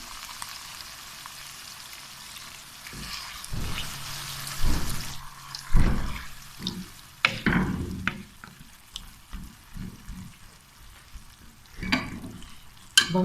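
Aloo gobi masala in a frying pan, with about half a cup of water poured in, sizzling as it is stirred; a hiss of liquid, then irregular close spoon scrapes and knocks against the pan, no voices.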